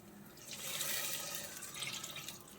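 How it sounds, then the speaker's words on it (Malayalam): Plain water poured into rasam in a pan, a soft splashing rush swelling and easing over a few seconds, faint and close, with no talk. "അപ്പോൾ സാധാരണ വെള്ളം ചേർത്ത് കൊടുത്താൽ മതി."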